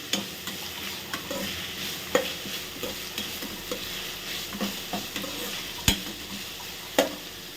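A generous amount of onions fries in a pan for a Tamil blood stir-fry, giving a continuous close sizzle with regular scraping and tapping of a spoon stirring through, no voices.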